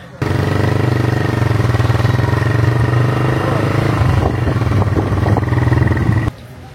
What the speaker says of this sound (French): finalement j'ai pris le scooter